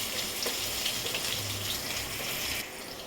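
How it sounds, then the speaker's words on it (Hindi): Potatoes frying in a pan with green chilli and ginger over a medium flame, a steady close sizzle with a watery hiss that continues evenly, then drops slightly near the end. "अब इसमें मैं आलू डाल रही हूँ। आलू को थोड़ा मैं भून लेती हूँ।"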